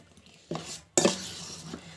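A dosa being flipped on a hot pan, with two sharp metallic scrapes and clatters from a spatula against the pan, followed by a light sizzle, close up and with no talking.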